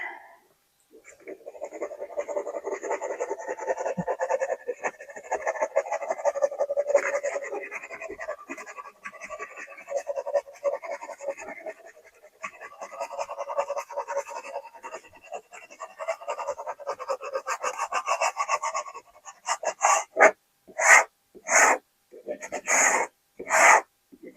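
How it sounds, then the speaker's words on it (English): A squeegee rubs over a rhinestone transfer on a shirt in repeated scratchy strokes, close and fairly quiet, with brief pauses and a run of short separate swipes near the end. "So I'm going to grab my squeegee and I'm going to work my way"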